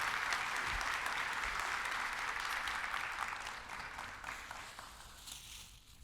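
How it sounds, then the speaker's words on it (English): Symposium audience gives a round of applause, full and steady at first, then gradually thinning and fading toward the close. "Give Kristen a round of applause, please."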